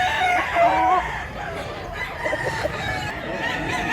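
Rooster crowing at a Mantalungon, Cebu poultry farm, tones rising and falling over steady background noise, with other birds faintly around.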